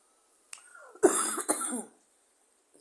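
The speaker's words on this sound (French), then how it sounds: "Ma toux là persiste encore." A person with a persistent cough during a family evening meal coughs twice in quick succession, close and fairly loud, preceded by a faint click and followed by quiet.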